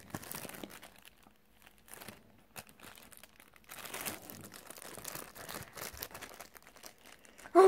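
Thin plastic of a resealable package crinkles and crackles softly and close up as it is opened, in irregular rustling bursts, with no talking.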